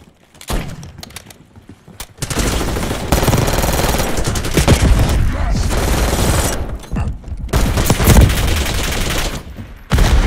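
Sustained heavy gunfire in a Call of Duty firefight around the HBT, loud bursts of automatic fire and shots crackling almost continuously after a brief quieter opening, with scattered short gaps.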